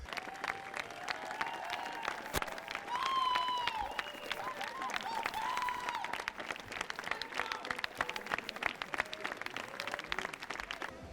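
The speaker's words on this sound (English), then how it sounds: "the credits are over and the ovation still goes" Sustained applause from a large crowd at a Cannes film screening, a standing ovation continuing after the credits, with dense steady clapping and a few whoops and cheers rising above it.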